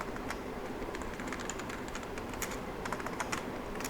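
Rapid, steady keystrokes on a computer keyboard clatter close up over a constant low background hum, with no voices.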